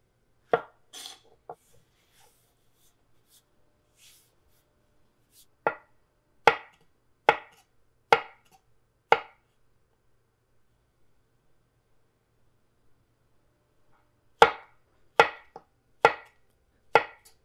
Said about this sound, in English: Slice the mushrooms up into about a quarter inch, maybe 3/16 of an inch thick.